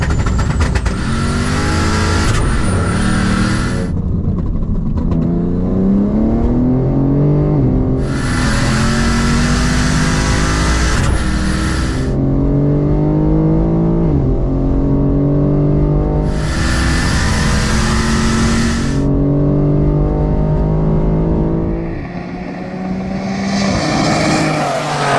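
A 5.0-litre V8 Opel Omega and a Stage 2 BMW M3 Competition drag racing, loud and close, engines revving hard through repeated upshifts with rising and falling pitch, then a fading roar as they pull away.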